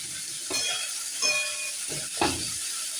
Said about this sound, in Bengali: এবার আমি তেলটা গরম হয়ে গেছে এর মধ্যে আমি সব সবজি এগুলো দিয়ে দেবো দিয়ে হালকা ভাজবো বেশি ভাজবো না